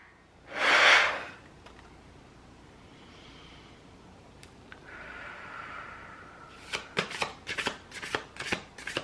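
A deck of Medicine Woman Oracle cards is shuffled up close: one loud riffling burst at the start, a quiet stretch, then a quick run of sharp card flicks and snaps near the end.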